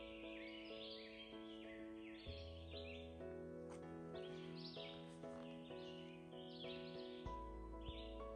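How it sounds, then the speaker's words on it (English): Morning birdsong along the Appalachian Trail, several birds chirping and trilling in repeated high phrases over a steady low background hum, moderately near and continuous throughout with no talking. "Just the noises of the birds in the morning."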